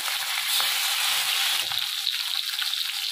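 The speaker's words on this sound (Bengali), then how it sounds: "তেলটা গরম হয়ে গেছে, এবারে আমি ইলিশ মাছটা কড়ার মধ্যে দিয়ে দিলাম।" Hilsa fish pieces frying in hot mustard oil in a wok, giving a steady, close, loud sizzle with no talking.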